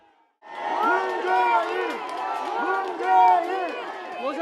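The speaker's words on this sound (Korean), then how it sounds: "5년 만에 문재인 전 대통령 내외가 추도식의 모습을 드러내자 지지자들의 환호가" A crowd of supporters cheers and whoops loudly as a former South Korean president and his wife appear at a memorial ceremony. Shouts rise and swell continuously, with individual voices calling out through the din.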